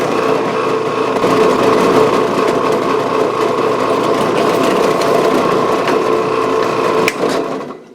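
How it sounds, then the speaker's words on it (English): A power drill whines steadily and loudly as it bores through metal for a homemade Porsche 944 balance pulley puller, its bit dipped in 80-90 gear oil, running continuously before winding down at the end. "And we are going to give a little drill."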